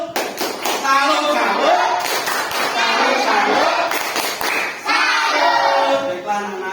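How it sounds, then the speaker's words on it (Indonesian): A fifth-grade class doing a rhythmic 'tepuk salut' cheer in an Indonesian classroom, sharp patterned hand claps interleaved with children chanting along in unison, loud and close. "Iya, tepuk tangan. Beri tepuk salut."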